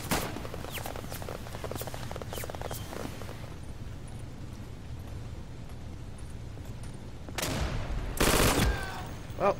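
Rapid bursts of gunfire ring out in the World War II shooter game Day of Infamy, with a flurry of shots at the start, a lull of quieter background noise, then a louder, heavier burst near the end.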